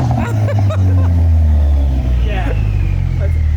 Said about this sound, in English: now it has a little bit more pops and crackles